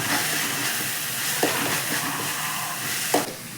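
Onions and soaked chana dal fry in a pan for masala rice idli, giving a steady low sizzle with a couple of brief stirring clicks, close and even throughout.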